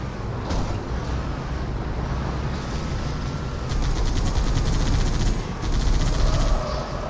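Rapid gunfire rattles through a Halo 3 battle, sustained automatic bursts over a constant rumbling background, growing louder and denser in the later seconds.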